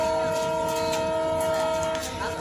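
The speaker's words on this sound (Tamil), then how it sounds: "இதுதான் நாங்கள் வந்த ட்ரெயின்." A train is heard up close, with a sustained horn tone over a rumbling, clattering run of railway cars. A voice speaks faintly underneath.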